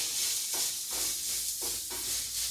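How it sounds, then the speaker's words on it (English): Soft, steady sizzling and crackling of fried rice in a hot lidded pan, a constant hiss with gentle pulsing swells, close and quiet. "we're hearing the rice sizzle"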